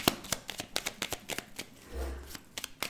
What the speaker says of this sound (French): Il faut que je tire quand même quelques cartes.